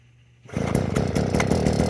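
A Proyama multi tool's gas engine starts after pulls on choke, jumping from near silence into a loud, steady running drone close by, alone without any talking.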